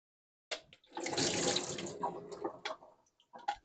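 Water pours from a kitchen tap as soaked raisins are drained through a colander into a bowl, a close splashing gush that starts abruptly, runs steadily, then breaks into a few trailing splashes and drips.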